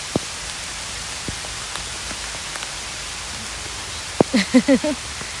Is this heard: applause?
no